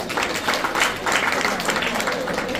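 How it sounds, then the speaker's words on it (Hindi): Guests at a children's summer camp event clap loudly for the kids, a full, continuous burst of crowd applause filling the room at steady volume for a few seconds. "बच्चों के लिए जोरदार ताली बजाइए"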